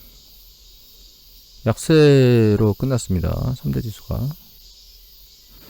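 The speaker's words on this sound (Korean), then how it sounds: "매미 소리 잘 들리시나요?" Cicadas shrill steadily at dawn, a sustained high buzzing band that runs the whole time beneath someone speaking close by.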